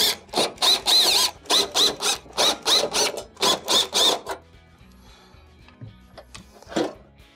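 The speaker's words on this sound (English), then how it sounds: "also removing all the screws." Screws being removed from the top panel of a Samsung radiant-element stove with a power driver, a run of about eleven short rhythmic whirring bursts, close and fairly loud, followed by quieter clicks and handling noise.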